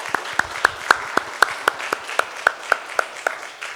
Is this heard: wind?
no